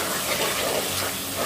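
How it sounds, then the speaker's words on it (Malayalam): Water being poured into a pan of fried masala for a home-style mackerel fish curry, a steady close gushing splash that continues without a break. "നമുക്ക് വെള്ളം ഒഴിച്ച് ചേർക്കാം."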